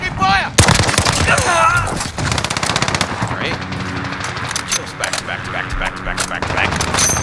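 Rapid automatic gunfire from the 2019 Call of Duty Modern Warfare game crackles in loud, dense bursts with sharp single shots, while a voice shouts over the shooting.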